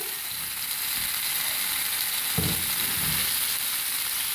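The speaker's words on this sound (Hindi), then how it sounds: "अपने मछली के सरों को सबसे पहले हम इसका हल्का हल्का फ्राई करेंगे।" Fish heads fry lightly in a pan with a loud, continuous sizzle. A soft scrape or stir breaks in partway through, and no one speaks.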